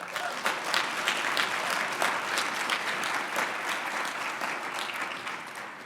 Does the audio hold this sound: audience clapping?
yes